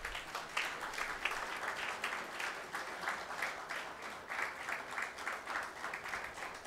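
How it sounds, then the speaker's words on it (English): Guests at a PG diploma convocation ceremony clap for the graduating candidates, a steady, moderately distant patter of many hands that continues through the whole stretch. "Let us clap for all the candidates who have got this."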